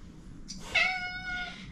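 Pet cats indoors in a house give a single clear, drawn-out meow at close range, rising then trailing off over a quiet room background.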